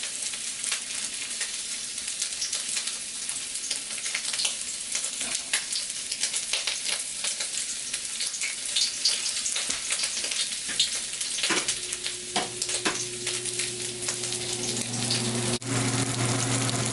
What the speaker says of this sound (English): I have to cook at both sides of the shrimps